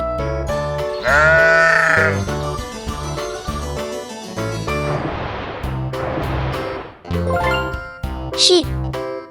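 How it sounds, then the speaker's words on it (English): Sheep bleating twice over cheerful children's music with jingles, the bleats clear and prominent, followed by a brief high squeak near the end. "Sheep."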